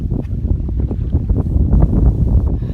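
Gusty wind buffets the microphone in a loud, continuous low rumble with no voices, in the woods by a lake as the weather turns cold.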